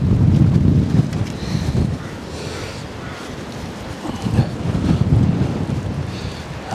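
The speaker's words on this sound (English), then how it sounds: "What a gust that was." Strong wind gusts from Storm Otto roar and buffet the microphone at a tent campsite in heavy low rumbling bursts, easing briefly before surging again.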